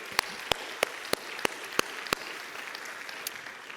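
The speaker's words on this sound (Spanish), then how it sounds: "dale un fuerte aplauso a él." A church congregation claps in a few loud, evenly spaced single beats that stop after about two seconds, leaving a faint, quiet room.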